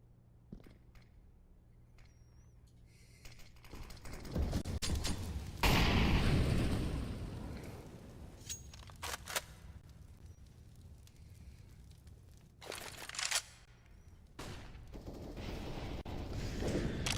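Distant gunfire and utility blasts in a Counter-Strike match, with sporadic bursts, a heavier rumbling explosion, and scattered sharp shots separated by quieter stretches.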